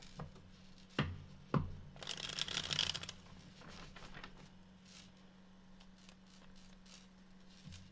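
Tarot cards are riffled and shuffled in a few sharp taps followed by a dense burst of flicking and shuffling, then softer handling noises fade out against a low, steady background hum.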